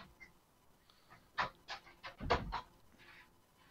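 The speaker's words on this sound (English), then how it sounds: "Your guard dog's going off again." A guard dog in Minecraft pants in quick, breathy bursts at close range. The sound is fairly quiet and there is no talk over it.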